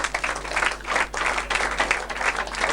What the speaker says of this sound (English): Let's give him a round of applause, lads.